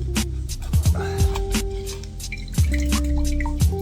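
Water draining and dripping from a Lechuza self-watering plant pot, a steady run of close, distinct drips and small splashes repeating irregularly throughout.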